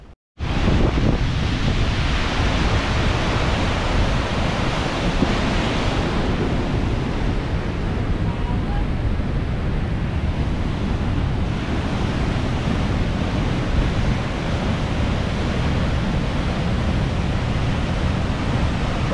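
A waterfall in Misty Rocky Canyon roars in a loud, continuous broadband rush that stays steady, close and unbroken without voices.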